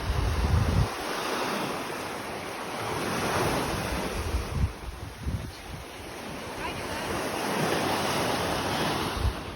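Waves wash onto a Black Sea beach near Chernomorets by the Akra fortress, a continuous rushing surf with heavy wind buffeting the microphone and swells rising and falling.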